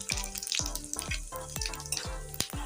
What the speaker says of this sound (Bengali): গোটা গরম মশলা একটা শুকনো লঙ্কা গোটা জিরে আর ছোট একটা তেজপাতা আমি ফোড়ন দিয়ে দিলাম